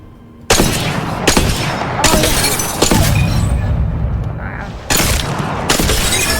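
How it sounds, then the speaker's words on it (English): Longbow sniper rifle firing in the Apex Legends video game: several loud, sharp gunshot blasts, each with a ringing tail, spaced about a second or two apart. "So the longbow is a sniper rifle."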